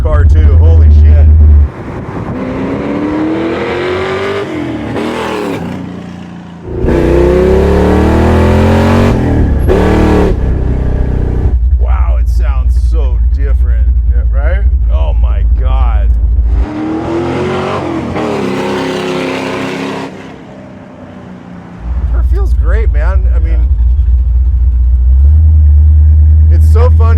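A 1965 Mustang Fastback pro-touring build with its exhaust cutouts open revs hard and loud, a deep throaty roar rising and falling in several bursts, with people talking between the revs.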